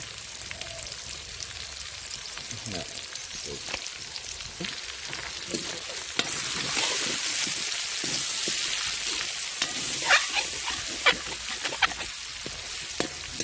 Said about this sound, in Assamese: এতিয়া মছলাটো দিম আমি। ইয়াত আছে মিট মছলা, জিৰা পাউডাৰ আৰু ৰেড চিলি আছে। এইখিনি ঢালি দিম ইয়াতে।